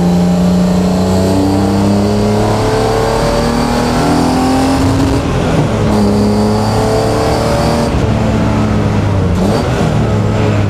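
BMW E36 track car engine revving hard while driving on a circuit, a loud, close in-car roar with pitch climbing through the gears and dropping at each shift, no voices.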